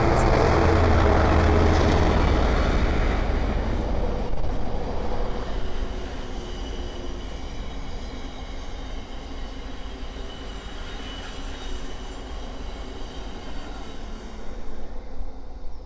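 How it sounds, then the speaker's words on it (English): A Freightliner class 66 diesel freight train passes on the East Coast Main Line at Great Wymondley, a loud rumbling roar that fades slowly into a long steady rolling of wagons, with wind noise. "the next train to pass by is a Freightliner 66"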